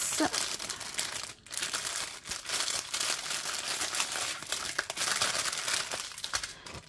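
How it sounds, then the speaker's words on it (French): Crinkly plastic bag of diamond painting stickers being opened, a dense continuous rustle and crackle close by with brief tearing bursts and one short lull, no talking. "Alors, je vais vous ouvrir le sac."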